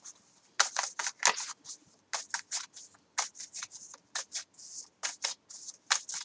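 Playing cards being shuffled on a table that shakes slightly, a rapid run of crisp riffling bursts and snaps in quick succession, close and clear, with no talking.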